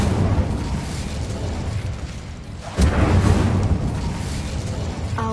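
The Incendio fire spell is cast in Hogwarts Legacy, producing a sudden whooshing fiery burst partway through over a constant rumbling game background.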